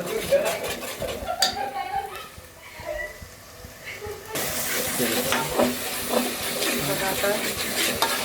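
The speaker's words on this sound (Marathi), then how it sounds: "हे सगळं वाटण आहे ना आपण सगळं तेलावर छान असं परतून घेऊया" Ground masala paste sautés in oil with spatula stirring and scraping against the pan, a rough sizzle that grows louder partway through, with a voice talking at times.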